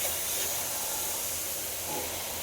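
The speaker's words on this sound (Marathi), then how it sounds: "या गाजराला आपण 10 मिनिटं तुपामध्ये शिजवून घेणार आहोत।" Grated carrots frying in hot ghee give off a steady, loud, broadband sizzle and hiss that holds evenly for a couple of seconds, close up and alone, with no talking.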